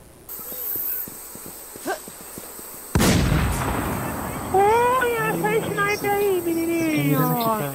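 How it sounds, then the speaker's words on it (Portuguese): Sniper rifle shots in the zombie survival game Infestation, a sharp loud report followed by reverberating tail, with people talking over the gameplay audio. "Já deu uns 30 tiros, não deve ter matado ninguém até agora."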